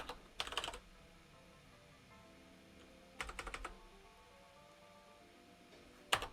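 Computer keyboard typing in three short bursts of rapid clicking, separated by quiet pauses, fairly close and clear with no talking.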